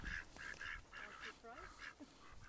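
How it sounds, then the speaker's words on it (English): Ducks graze in a permaculture garden on a farm in Wales, giving repeated nasal honking quacks close by over a low outdoor background, with no talk. "these are our permaculture ducks in the garden thing."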